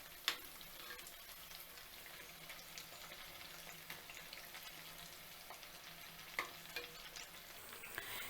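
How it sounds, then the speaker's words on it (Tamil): Vada made from batter deep frying in hot oil, a soft continuous bubbling sizzle with a few faint ticks and pops, quiet and even throughout, with no voices. "இப்போ நம்ம எண்ணெயில் பொறிக்கலாம்"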